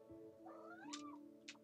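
A Minecraft cat lets out a rising, drawn-out meow over a steady hum of game music, followed by a couple of short soft bursts, with no one talking.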